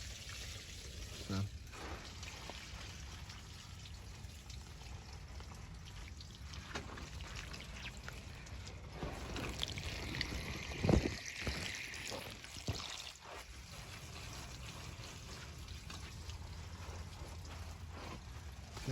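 Water pours and trickles while a spring garden is watered, with soft splashing that swells in the middle under background noise and a little talking.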